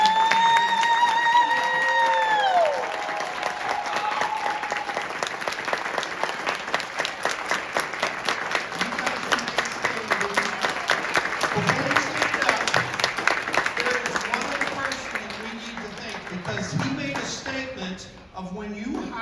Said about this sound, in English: I think we need to give them a real big round of applause.